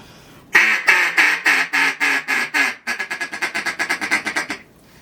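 A double reed duck call blown in a run of loud, raspy quacks, first slower and drawn out, then a faster series of short choppy quacks, alone and up close.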